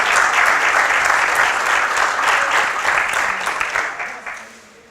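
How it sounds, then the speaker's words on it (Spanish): Dense audience applause fills a conference presentation at an energy expo, steady and close for several seconds before tapering off toward the end. "quiero pedir un aplauso para el estudiante Ignacio Torres"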